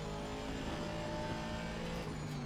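Race car engine in a racing game, a steady, dense drone with rising and falling harmonics as the car brakes and accelerates, loud and continuous with no talk.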